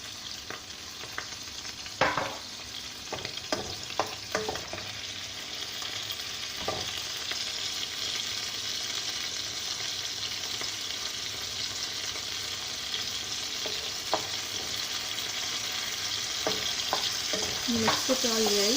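Schezwan noodles with chicken, soy sauce and green and red chili sauces are stirred and fried in a hot pan, giving a steady sizzle broken by clattering, scraping strokes of a utensil, with no talking.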